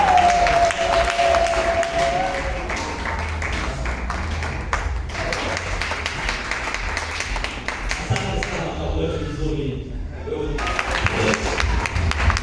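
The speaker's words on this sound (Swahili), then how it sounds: "Makofi kwake." Applause from a church congregation for a pastor after a large Pentecost conference, steady sustained clapping from many people filling the space at fairly loud volume, with a voice briefly heard at the start.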